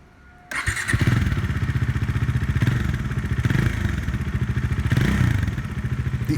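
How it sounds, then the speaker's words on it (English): A 2019 Bajaj Dominar 400 motorcycle starts and idles loudly, its single-cylinder exhaust thumping in a fast, steady pulse close by, with brief revs swelling the beat. "The engine is really torquey and sounds brilliant."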